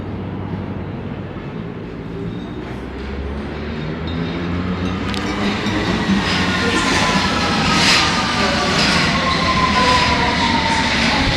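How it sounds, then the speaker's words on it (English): A London Underground train pulls into Temple station, its rumble growing steadily louder over several seconds, with rising wheel squeal and rail clatter, heard from a roof terrace above the station. "That sound is the underground train coming into the station."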